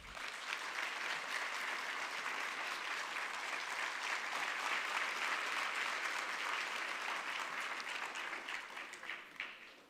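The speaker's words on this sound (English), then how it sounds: "Please give him a huge round of applause." A large audience applauds a visiting high-ranking US official at a Tibetan performing arts conference, a broad, even roar of clapping sustained for about ten seconds and tapering near the end, somewhat distant.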